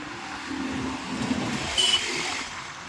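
A single car passes on a quiet main road on a cold, drizzly morning, its tyre and engine noise swelling briefly near the end over a low, steady background hum.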